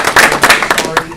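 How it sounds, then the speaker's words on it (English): A short burst of audience clapping at a Libertarian Party of Maryland event, a handful of sharp, uneven claps over roughly a second, fairly close and loud. "So how about a quick round of applause for Bob?"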